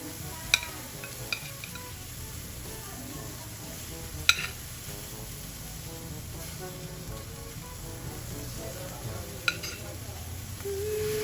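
Steady sizzling from galunggong fish frying in a hot pan, with a few sharp clinks of utensils against the pan.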